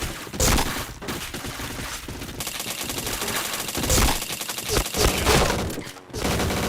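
A Beretta fires in a video game in fast, loud bursts of automatic gunfire. Short gaps break up the sustained volleys, and a voice is briefly heard over them.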